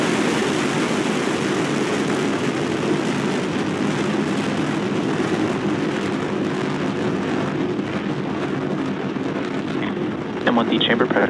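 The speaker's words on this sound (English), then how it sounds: "ignition, engines full power, and liftoff" SpaceX Falcon booster launching the Galileo L12 satellite, a continuous heavy broadband roar of rocket engines at ignition and liftoff, steady and loud throughout with a slight shift near the end.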